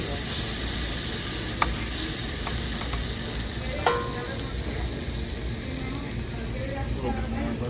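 Sliced mushrooms sizzle steadily in a pan, a constant close frying hiss with a few light clicks of a utensil stirring, no one speaking.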